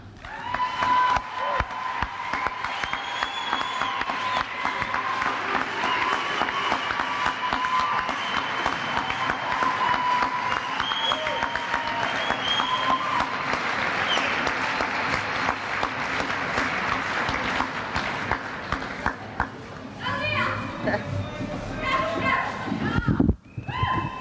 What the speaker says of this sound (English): I want you all to give her a big round of applause